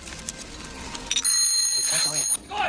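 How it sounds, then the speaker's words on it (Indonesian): An alarm rings with a bright, high electronic beeping tone that starts partway through and sounds steadily for about a second, over a quiet background with voices talking around it. "tiba-tiba alarm miliknya berbunyi sehingga membuatnya panik dan nyaris ketahuan oleh tentara Jepang"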